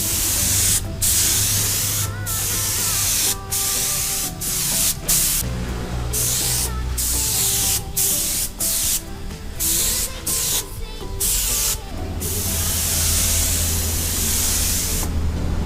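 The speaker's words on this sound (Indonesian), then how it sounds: "sekarang gua akan lanjut ke penyemprotan lapisan pertama ya. Di sini clearnya udah gua campur dengan mutiara warna gold." A spray gun lays thin coats of clear mixed with gold pearl onto a motorcycle body panel, in a loud, steady hiss broken by many short pauses between passes, close up and with no talking.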